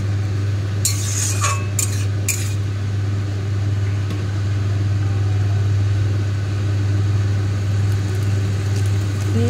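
Spice paste sautéing in a pan until the oil separates, a continuous close sizzle with a low steady hum and a few sharp metallic utensil clinks early on.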